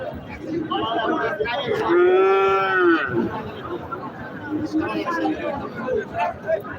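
Hybrid Sindhi or Sahiwal cattle at the Mahasthangarh cattle market in Bogura, with one loud, drawn-out moo rising and falling against steady crowd chatter and nearby voices.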